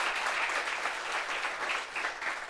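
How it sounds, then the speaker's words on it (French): Studio audience applauding steadily as a guest takes a seat on a French talk show set, a dense, even clapping that holds at moderate loudness throughout with no voices over it. "On applaudit jusqu'à ce qu'il s'asseye"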